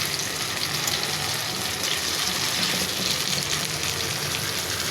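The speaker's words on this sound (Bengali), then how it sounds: "বেসন মাখিয়ে বেগুনটা ভাজি করে নিতে পারেন" Eggplant slices coated in gram flour frying in hot oil, a steady, dense sizzle that stays even and close throughout with no talking.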